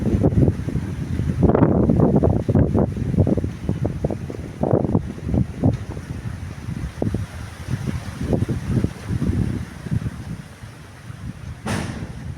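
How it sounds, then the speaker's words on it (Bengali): Wind-driven floodwater waves roll in around surrounded homes in Cumilla, a steady choppy rush of water with gusty wind rumble over the microphone and brief louder surges. "এইভাবে ঢেউ আসতেছে"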